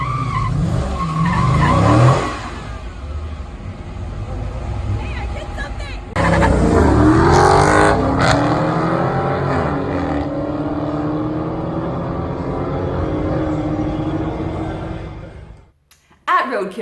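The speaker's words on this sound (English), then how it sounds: "My first ever drag race and burnout." A special-edition Dodge Challenger does a burnout at a drag race event, with loud engine roar and rising tire screech swelling midway before cutting off abruptly, amid crowd babble and speech.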